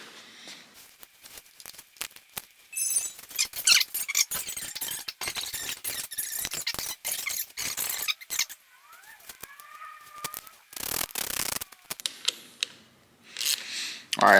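Mechanical clicks and ratcheting squeaks from tightening Pro Taper handlebar clamps on a KLX300SM motorcycle, close and irregular, with a few quiet gaps in between.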